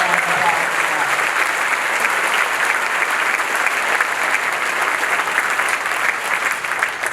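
Sustained audience applause at a Republican meeting, a dense, steady wash of clapping from a crowd that holds at full loudness for the whole stretch without pause.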